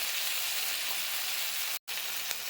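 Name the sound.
vegetables and spices frying in oil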